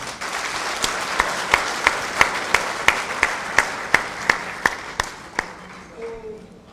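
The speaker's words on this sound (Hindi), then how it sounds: "अपने लिए ताली बजाओ।" At a political party workers' conference, a crowd claps in a strong, regular rhythm, about a dozen sharp unison beats that fade out near the end, with a voice briefly heard at the close.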